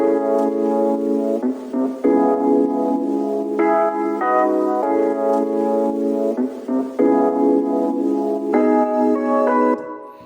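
Processed sample from a song: sustained, bell-like harmonic tones shifting between chords in a slow repeating pattern, loud and continuous with no voices.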